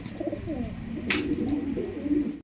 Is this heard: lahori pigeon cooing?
yes